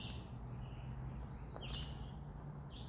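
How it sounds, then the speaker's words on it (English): Birds in a wooded area along a river trail give faint, thin chirps and short whistles at a distance over a steady low rumble of background noise. "the birds chirping."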